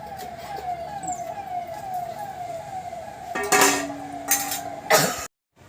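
A lid set onto a cooking pot of thin bhetki fish-bone curry with green banana lands with a few sharp metallic clanks near the end, over steady kitchen hiss and a drifting tone.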